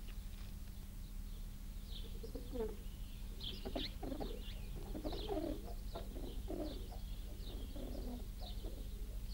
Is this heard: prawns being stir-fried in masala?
no